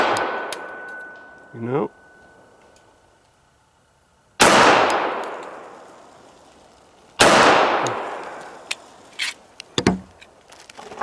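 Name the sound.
gunshots from a 1918 Colt 1911 pistol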